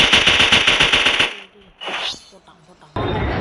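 Rapid automatic gunfire in GTA Online, a loud dense burst of shots lasting over a second, then a brief whooshing shot, a pause, and another loud sustained volley.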